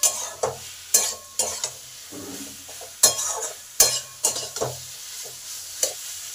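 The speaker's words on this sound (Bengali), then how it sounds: "যতক্ষণ পর্যন্ত মশলাগুলোর কাঁচা গন্ধ না যায় ঠিক ততক্ষণই কষতে হবে।" A spoon scrapes and clacks through spices sautéing in a pan for an egg curry with potato, soya chunks and kohlrabi, giving sharp irregular knocks over a soft, steady sizzle at close range.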